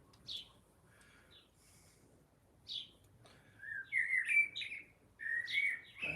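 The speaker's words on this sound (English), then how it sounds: "Those birds sound wonderful." Birds chirp and whistle outdoors in short scattered calls, sparse at first, then a livelier burst of tweets toward the end.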